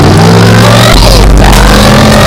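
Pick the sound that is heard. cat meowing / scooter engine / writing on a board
scooter engine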